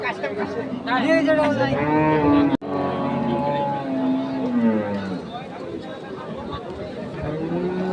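A young cow lows at the Ambari cattle market in long drawn-out calls, with market chatter and voices talking around and over it.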